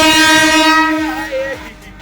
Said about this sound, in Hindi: और ये रहा ट्रेन